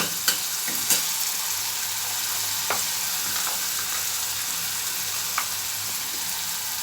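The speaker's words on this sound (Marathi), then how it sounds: "कांदा छान आपला परतत आलेला आहे" Onion sautéing in a salted pan for bitter gourd curry: a close, even hiss of frying that runs throughout, with a few faint clicks from stirring.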